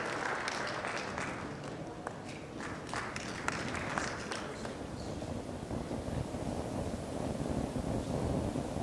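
An audience at a plenary session of a botanical science conference applauds steadily, a dense continuous clapping that holds at an even level throughout.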